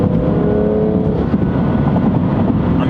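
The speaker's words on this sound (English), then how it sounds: "When you let off the gas and you let the car roll, you'll hear those crackles." A 2018 BMW M3 Competition rolls with the driver off the gas, its engine droning steadily and loudly with a rough, crackly exhaust texture running through the whole stretch.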